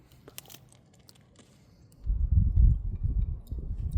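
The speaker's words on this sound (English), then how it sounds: "Let's try this chewing gum." Danish Orifo chewing gum: faint crinkles at first, then loud, close, moist crunching and chewing as a piece is bitten and worked in the mouth.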